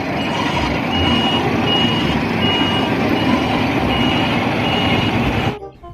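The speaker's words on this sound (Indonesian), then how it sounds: "Yang ini namanya mobil truk molen" A cement mixer truck reverses with steady, evenly spaced reversing beeps over a loud, continuous engine rumble that stays close for several seconds before cutting off abruptly.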